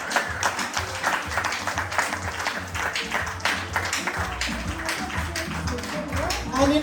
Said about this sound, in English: Can we clap them again?